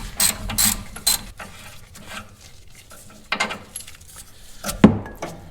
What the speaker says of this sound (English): Next up, we're gonna remove the nut off of our sway bar.